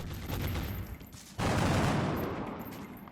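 Weapons fire from soldiers in XCOM: Enemy Within with the Long War mod, a loud sustained burst of gunfire that kicks in abruptly partway through over a lower rumble of earlier shots.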